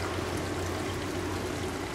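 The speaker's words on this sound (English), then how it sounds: "You now dip the LIFESAVER bottle into the stream" A LIFESAVER water-filter bottle is dipped into a flowing stream, and the water rushes and gurgles steadily and close by for the whole moment, with no talking.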